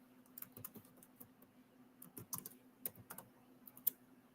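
Someone types on a computer keyboard in quiet, irregular bursts of soft key clicks, with a few louder isolated taps standing out.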